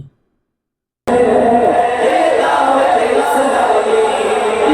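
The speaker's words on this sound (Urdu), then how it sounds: "اور پھر اس کے بعد دعوت اسلامی زندہ باد کے نعرے لگنے لگے" A large crowd at a Mawlid gathering in Karachi chanting slogans in unison, a loud dense roar of many voices starting suddenly after a second of silence and continuing steadily.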